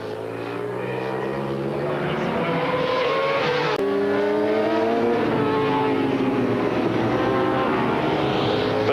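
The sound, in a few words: racing motorcycle engine at full throttle, Bol d'Or race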